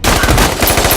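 Rapid automatic gunfire bursts in a shootout scene from the film Sicario 2, loud and dense bursts filling the whole moment.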